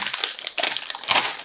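Crinkly plastic packaging of a Haitai Honey Butter Chips bag rustles and crackles in short bursts, a close, sharp crinkling as the bag is tugged and squeezed.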